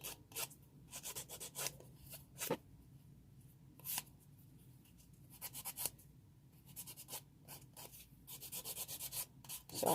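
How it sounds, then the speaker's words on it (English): Nail file rasping over stiletto nails to smooth and clean their shape, soft close scratchy strokes in short irregular bursts, quiet and alone. "So I'm just filing and cleaning up everything"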